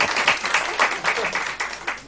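A crowd claps and cheers while watching a heavyweight wrestler, a 185-kilo pehlivan, land a somersault, producing dense, loud clapping in surging waves with excited voices mixed in close by.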